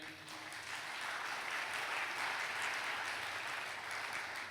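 A church congregation claps during a sermon, a dense and steady wash of applause held for several seconds at moderate distance.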